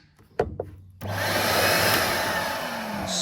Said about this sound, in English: A switch just makes it quick and easy to turn the vacuum off, as it's noisy as all hell